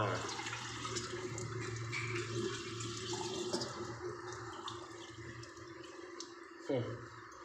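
Second-hand urinal being flushed right after installation, water rushing and running steadily at close range, then trickling down with a brief knock near the end; someone talks over it.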